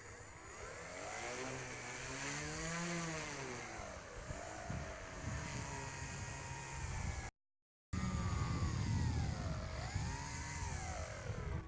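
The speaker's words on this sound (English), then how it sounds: "Now we are going to taxi to the runway end." RC tail dragger model airplane engine taxiing on the ground, a steady buzzing whine that rises and falls in pitch as the throttle changes, close and continuous, with one brief dropout.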